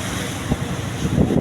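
Ocean waves roll around a small boat out on the Pacific, with swells of about seven to eight feet and wind buffeting the microphone. The wash and rumble are close and continuous, with a few heavier surges and no talk.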